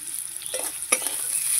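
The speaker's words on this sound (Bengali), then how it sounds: "সিমটা আমি ভালো করে ভেজে নিয়েছি।" Flat beans stir-fried in a pan, a soft steady sizzle with a couple of scraping stirs, close and fairly quiet, no voices.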